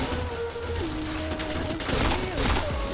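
Gunfire in the shooter game Point Blank, a dense fusillade of loud, steady shots running the whole time, with a couple of heavier bursts near the end.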